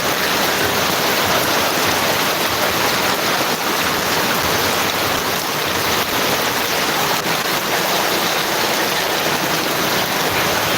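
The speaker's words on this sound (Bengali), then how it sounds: "এই দেখেন আমাদের এদিকে কি বৃষ্টি হচ্ছে" Heavy rain pouring in Gazipur, a steady dense hiss of water falling and splashing on surfaces, loud and unbroken throughout with no voices.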